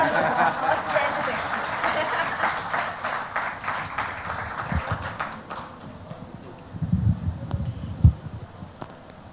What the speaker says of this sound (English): let's have the big round of applause anyways.